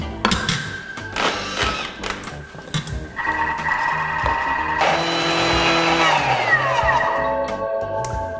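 A Thermomix chops ketchup ingredients at speed 10, a loud, continuous motor whir with shifting, rising tones and the thick churning of the mixture against the blades.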